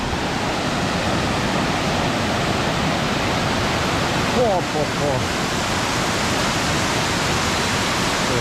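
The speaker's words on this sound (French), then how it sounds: "C'est au moins 100 mètres de chute là, une cascade." A waterfall roughly 100 metres high roars as a loud, steady, unbroken rush from start to finish, and a person briefly exclaims over it midway.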